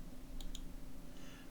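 Two quick, crisp computer mouse clicks in close succession, faint and close against a low steady hum.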